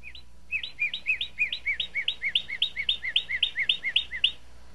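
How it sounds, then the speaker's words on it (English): A northern cardinal sings a long series of quick, slurred whistled notes repeated in a steady rhythm, clear and fairly close against a quiet background. "This is the sound of a cardinal."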